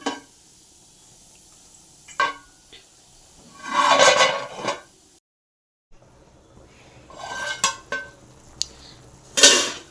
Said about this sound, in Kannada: 10 ನಿಮಿಷ ಸ್ಟೀಮಲ್ಲೇ ಬೇಯಲಿ ತಟ್ಟೆ ಮುಚ್ತಾ ಇದ್ದೀನಿ